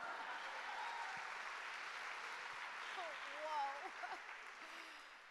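An audience at a Harvard Foundation event gives a sustained round of applause for a performer, a soft, even wash of clapping heard at a distance with faint voices and chirpy sounds near the end.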